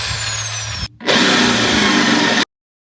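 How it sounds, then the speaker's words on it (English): A corded plug-in power drill bores through a steel I-beam. It whines loudly and close, stops briefly, then starts again with a harder, grinding tone before cutting off sharply. "So we got the holes drilled out through the I-beam."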